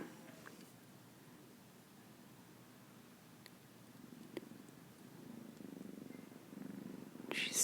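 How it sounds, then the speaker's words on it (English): A kitten purrs softly and continuously up close during a gentle massage, the low rumbling hum steady and faint with light rustling. "She's starting to purr really loudly."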